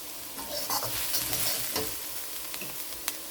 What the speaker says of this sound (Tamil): நல்லா மிக்ஸ் பண்ணி விடுறேன்.